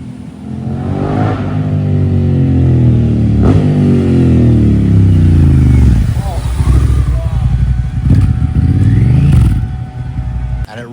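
Honda Africa Twin motorcycle with a BT Moto tune and aftermarket exhaust revving hard, deep rising and falling engine tones repeated several times, loud and close throughout.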